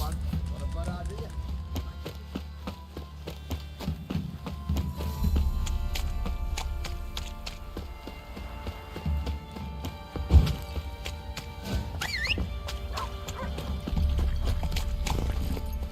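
A horse galloping in The Witcher 3: Wild Hunt, its steady clip-clop hoofbeats running throughout alongside game ambience, with a person talking over it.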